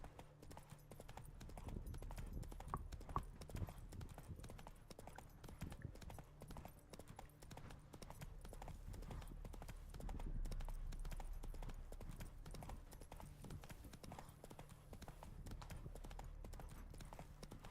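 In the Witcher 3 video game, the horse Roach trots with steady, rhythmic clip-clopping hooves, fairly faint and continuous, with occasional soft voices underneath.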